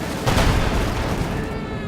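Artillery bombardment in Company of Heroes 2, with Stuka rocket fire hitting Soviet shock troops: a dense rumbling barrage of blasts swelling loudly near the start, then a sustained roar of fire and debris.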